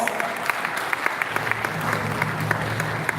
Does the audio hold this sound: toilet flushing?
no